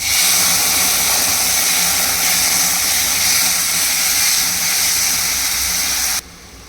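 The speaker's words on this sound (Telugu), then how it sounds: "ఆనియన్ ఫ్రై అయ్యాయి. ఇప్పుడు టమాటా ప్యూరీ వేయాలి." Tomato puree hits fried onions in a hot AMC cookware pan, setting off a loud, continuous hiss of sizzling steam that stops abruptly near the end, with no one talking.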